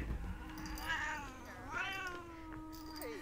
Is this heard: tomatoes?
no